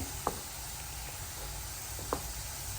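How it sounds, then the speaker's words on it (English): A spoon stirs homemade BBQ baked beans in a pot, giving soft scraping and a couple of light knocks against the side over a steady low sizzle, fairly quiet throughout. "And as you can see, I'm stirring them pretty good."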